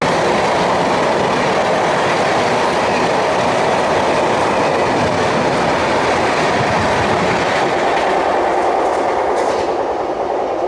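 Yesvantpur superfast express arriving on platform one, a loud, sustained roar of wheels and carriages with rhythmic clatter that holds steady before easing slightly near the end, with no voices.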